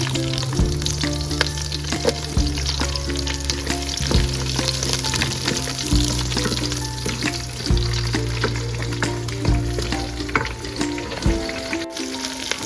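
Oil fries steadily in a pan while the cook prepares Telangana-style bagara rice and chicken curry. The close sizzle carries on throughout, a sustained low musical tone plays underneath it, and stirring clicks come through now and then.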